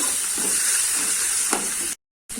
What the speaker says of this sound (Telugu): ఇప్పుడు కొత్తిమీరని కూడా ఫ్రై చేసేసుకుందాం